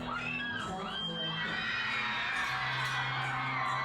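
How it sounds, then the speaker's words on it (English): A crowd of fans screams and cheers at a Lil Peep event, a dense, sustained wall of high-pitched shrieks that stays loud throughout, with some voices rising above the mass. "when you hear those screams like that"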